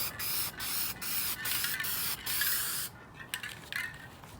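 An aerosol spray can lays a coat of paint onto an OEM Honda DC2 car bumper: loud, close hissing bursts in a rapid series of short passes separated by brief gaps, with no voices.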